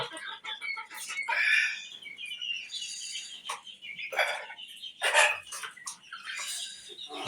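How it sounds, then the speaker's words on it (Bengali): Farm chickens, laying hens kept among other breeds on a home poultry farm, cluck and squawk in a busy series of close calls, with a few sharper louder cries standing out and no talking. "আর এখানে ফার্মি মুরগি।"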